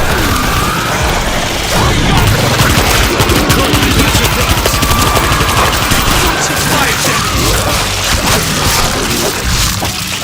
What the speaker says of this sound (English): I set a stationary gun here.